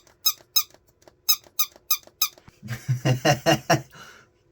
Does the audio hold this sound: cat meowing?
no